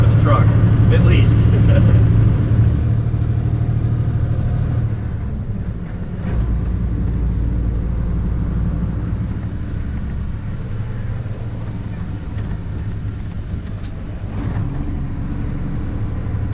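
A grain truck's engine runs loud and close, a steady low rumble that dips and swells as the gears are shifted, with someone talking over it.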